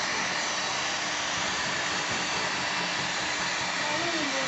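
A heat gun blows with a steady, loud, unbroken rushing whir that holds evenly throughout, with no pauses or changes in pitch.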